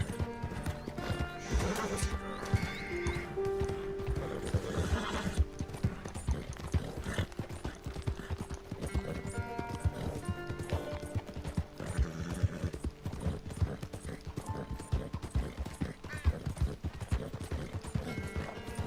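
A horse's hooves clip-clop at a steady rhythmic pace in the video game Red Dead Redemption 2, with a whinny near the start, close and continuous over ambient game sound.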